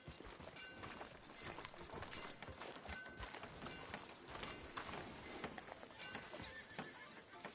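Horse hooves clip-clopping in Red Dead Redemption 2, a steady run of hoof falls mixed with town ambience and an occasional whinny, fairly close and continuous throughout.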